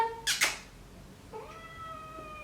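A cat meowing close by: one or two sharp, squeaky cries up front, then a longer, softer drawn-out meow a moment later.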